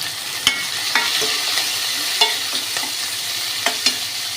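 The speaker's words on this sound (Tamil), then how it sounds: "இதில் வெங்காயம் ஆட் பண்ணிக்கோங்க மிளகாய் தக்காளி ஆட் பண்ணிக்கலாம்" Onion, green chili and tomato frying in a pan of oil with dried chilies and curry leaves, a steady close sizzle broken by sharp, irregular clinks and scrapes of a spatula stirring.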